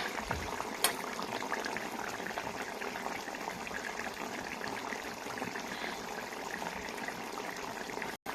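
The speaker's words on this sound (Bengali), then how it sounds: "এবারে দিয়ে দিচ্ছি জল।" Water poured into a fish curry simmering over a wood fire, a steady bubbling and liquid rush that runs unbroken and fairly close, with no talking.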